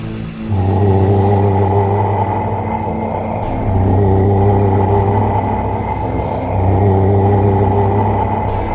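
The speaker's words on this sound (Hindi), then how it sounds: "गुल्ली ने गाड़ी की स्पीड बढ़ाई और तीनों वहां से फरार हो गए" A car engine rumbles and revs as the vehicle speeds away, loud and close, with the drone surging in three steady pushes.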